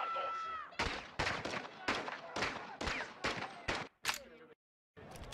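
Rapid gunfire in Call of Duty Modern Warfare 2 comes in a string of loud, sharp bursts at a steady rhythm, then stops briefly into silence before another shot.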